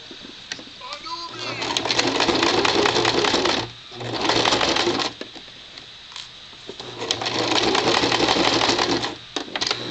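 Sewing machine stitching a large amount of stretchy fluffy fabric, loud steady whirring bursts in three long runs separated by brief pauses, close to the microphone.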